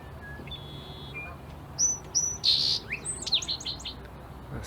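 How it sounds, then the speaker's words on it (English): A song sparrow calls nearby at a lakeside natural area, a quiet start building into a bright burst of sharp chirps and quick trilled notes. "A song sparrow calling."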